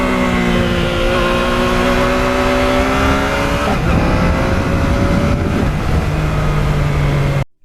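A Yamaha MT-09 motorcycle engine revving and pulling through gears, a loud continuous rising engine note with a shift midway, close by and without talk, cutting off abruptly at the end.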